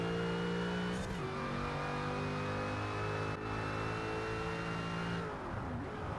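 A Ford GT race car in the Forza Horizon game holds a steady, loud engine drone near top speed, with brief pitch dips at gear shifts, racing with no talk.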